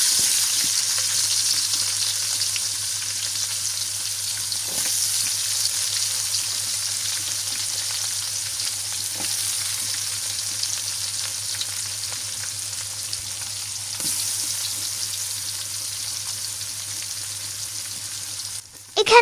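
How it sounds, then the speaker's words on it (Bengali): Onion and garlic fry in a wok for chicken khichuri, a steady close sizzle with bright crackling hiss throughout, a few faint clinks of stirring, no voices. "এই একই কড়াইয়ের ভিতরে এবার আমি অন্যটাও, মানে আমার পেঁয়াজ রসুন এটাও আবার ভাজবো"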